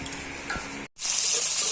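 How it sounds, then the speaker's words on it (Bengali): Fish frying in a pan of oil, a close sizzle with a short scrape and a brief gap before the hiss returns louder and steady. "মা এখানে মাছ ভাজা করছে"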